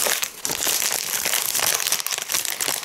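A small plastic snack packet of nuts or dried fruit crinkled continuously up close, with loud, dense crackling and rustling for the whole stretch and no talking.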